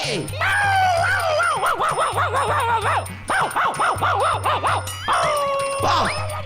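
A cartoon dog barks and yips in quick bursts over a looping background music track, the repeated high barks sounding close and loud, with brief pauses between runs.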